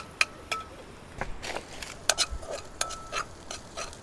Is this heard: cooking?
yes